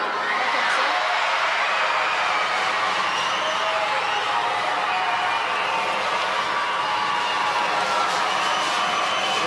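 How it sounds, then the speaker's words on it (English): Crowd cheering and chatter fill an arena at a Canada versus Latvia mixed team wheelchair curling match, a steady, dense wash of voices and whoops throughout, with spoken commentary running over it. "They're cheering for you"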